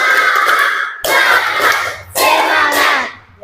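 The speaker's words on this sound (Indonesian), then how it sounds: "sekarang kita tepuk semangat" A school class performs rhythmic group clapping, three strong bursts of many hands striking together in a pattern, loud and close, with children's voices faintly mixed in.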